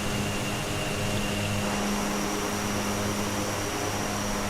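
An ATR72 turboprop in simulated flight drones loud and steady from inside the cabin, a constant propeller hum with a clear low tone and a faint whine above it, unchanging throughout.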